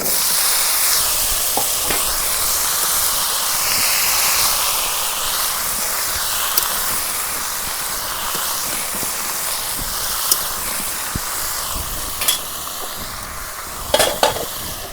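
Spices tempered in hot oil for a curry give a steady, continuous sizzle and hiss close by, with a few brief clinks of pan or utensil near the end.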